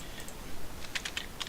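Quick bursts of computer keyboard keystrokes, light and close, clustered in short runs of clicks over a soft background hiss, with no talking.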